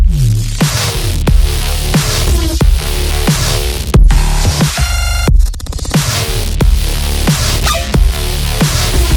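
A loud, dense Serum synth with warm soft-clip saturation plays over pounding beats, briefly dropping into a filtered rising sweep before the full sound returns.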